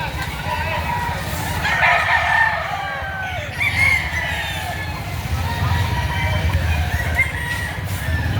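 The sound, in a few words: roosters crowing at a chicken market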